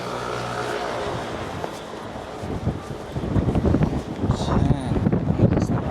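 Strong gusts buffet the microphone in a broad, roaring rush that swells louder in the second half, with a faint low rumble beneath and a voice speaking over it.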